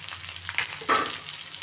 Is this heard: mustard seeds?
yes